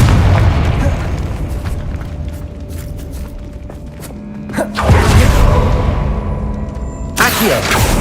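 A Confringo blasting spell goes off in the video game Hogwarts Legacy, giving a loud booming burst near the middle, then a second sharp blast toward the end over a steady background of game ambience.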